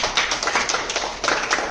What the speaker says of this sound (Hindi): एक बार और क्लैपिंग बजाओ।